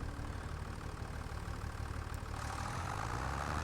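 A John Deere tractor in Farming Simulator 25 idles with a steady low rumble, its engine droning evenly and unchanging throughout, alone and fairly close.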